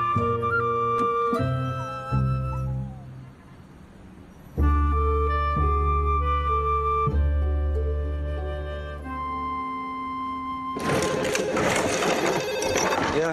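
A telephone bell rings in loud repeated bursts over a musical score, with a swell of orchestral sound near the end.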